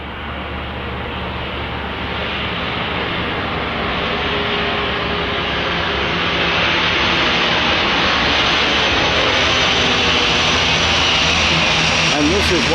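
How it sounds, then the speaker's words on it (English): Air Greenland aircraft coming in to land: a steady, loud engine roar that swells gradually over about thirteen seconds, with a broad rushing hiss and no break in the sound. "The planes are starting to land here."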